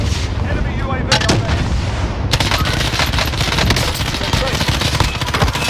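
Heavy gunfire from a video game rattles in dense, rapid bursts that continue steadily and loudly, with brief speech mixed in.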